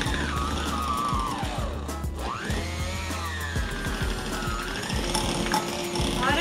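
Electric hand mixer beating cheese for tiramisu, a steady mechanical whir with a rattling, ratchety texture that runs continuously at close range, with no talk over it.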